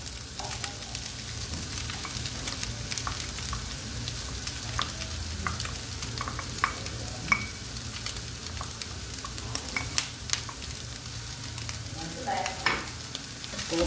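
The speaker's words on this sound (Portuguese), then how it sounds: "Vou colocar o pimentão, ó." Bell pepper goes into a frying one-pot rice dish, giving a steady close sizzle with scattered light clicks and scrapes of stirring, and no talking.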